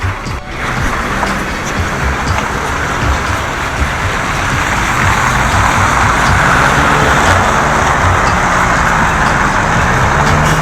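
City bus idling at a stop in -45 °C frost in Yakutsk, a steady low engine rumble with broadband road noise, continuous and fairly loud throughout, no voices.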